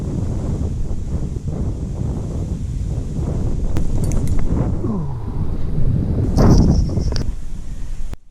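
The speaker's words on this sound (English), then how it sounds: "We've had nothing but wind and wind and wind." Wind at a UK trout fly-fishing spot, steady low rumbling buffeting on the microphone throughout, with a few faint rustles and thin high sounds over it and no talking.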